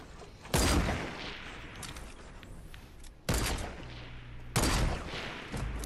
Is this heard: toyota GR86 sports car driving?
no